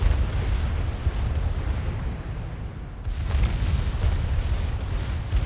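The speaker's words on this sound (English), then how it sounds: "I think I'm gonna fire my main battery" Main battery salvo from the Mikasa, a tier 2 Japanese battleship in a naval combat game: loud, continuous roaring rumble of heavy gunfire and explosions, with a brief dip and then a fresh burst of booming.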